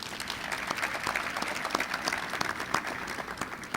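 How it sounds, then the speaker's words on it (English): A conference audience applauds its sponsors, a dense steady round of clapping from many hands, moderately loud and sustained throughout. "so I'd like to give them a round of applause this morning."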